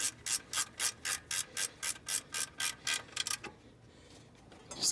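A hand ratchet tightens bolts on the power steering pump of a 1975 GMC, giving about a dozen fast, evenly spaced clicking strokes up close before it stops in near quiet.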